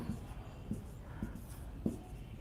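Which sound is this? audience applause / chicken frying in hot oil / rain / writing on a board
writing on a board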